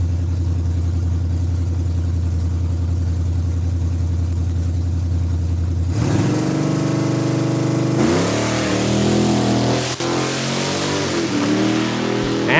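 A rod-class drag racing car with heated rear tires at Saskatchewan International Raceway idles with a loud, lumpy burble, then launches with a sudden roar and climbs through rising revs down the quarter mile.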